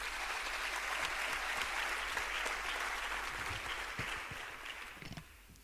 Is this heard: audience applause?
yes